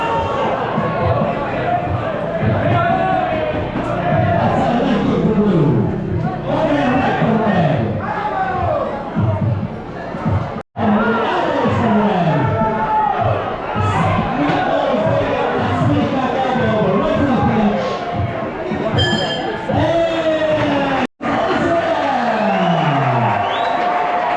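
A dense crowd roars and shouts continuously at a live Muay Thai fight on Koh Phangan, loud and close, with many overlapping voices, whoops and rising cheers that stay busy throughout.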